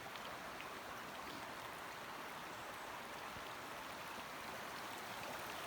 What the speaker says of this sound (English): the spring flows down like a waterfall into the river